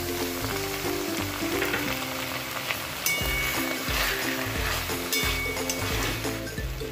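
Milk is poured into a pan of banana flower curry. It sets off a loud, continuous bubbling sizzle with dense crackling, and the sizzle surges at a couple of moments. No one speaks.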